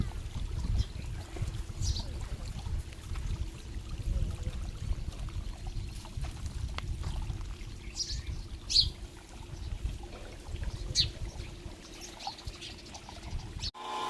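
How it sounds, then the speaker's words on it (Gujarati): Irrigation water flows and patters continuously at low level into a groundnut field, with occasional soft trickles and splashes over a rumbling outdoor background. "આપણે અહીંથી કરી દીધું પાણી ચાલુ"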